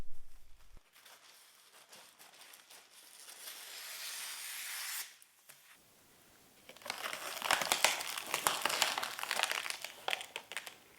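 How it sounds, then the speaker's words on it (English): Baking paper crinkles and rustles as it is rolled out and handled, with a soft hissing stretch followed by louder, denser crackling close to the microphone. "you want to roll out some baking paper"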